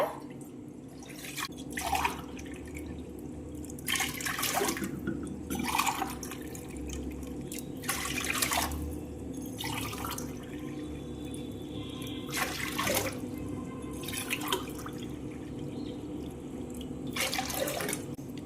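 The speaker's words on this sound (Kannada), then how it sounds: "ನಾನು 5 ಗ್ಲಾಸ್ ನೀರು ಹಾಕೋಬೇಕೀಗ" Water poured from a glass into a pressure cooker, several separate splashing pours spaced through the stretch against a steady low background hum.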